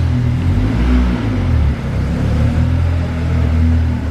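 A 500hp Caterham 620R accelerates hard, its engine roaring loud and close with a steady, sustained revving drone and a brief dip partway through, with no talk.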